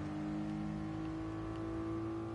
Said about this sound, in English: Man, these engine sounds are really calming me.